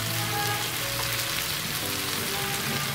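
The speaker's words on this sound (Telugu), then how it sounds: "ఉల్లిపాయ ముక్కలు మనకి వేగాయి కాబట్టి కట్ చేసి పెట్టుకున్న వంకాయ ముక్కల్ని కూడా వేసుకుందాము" Brinjal pieces and chopped onions fry together in a pan for a spicy brinjal masala, giving a steady, close crackling sizzle with no one speaking.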